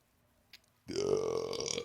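One long, loud belch bursts out abruptly after near silence and rumbles on steadily for about a second, heard up close.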